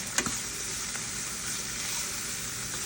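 Shrimp frying in a pan with scallions, a steady broadband sizzle running throughout with a brief utensil clink near the start, close and moderately loud.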